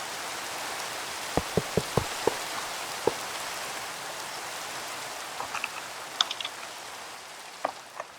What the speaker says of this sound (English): Now the dumb rain's gone.